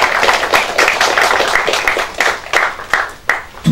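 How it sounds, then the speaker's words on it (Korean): Lawmakers at a party caucus meeting electing a floor leader applaud a candidate, a close, loud round of clapping with distinct sharp claps, no talk. "큰 박수로 격려해 주시기 바랍니다."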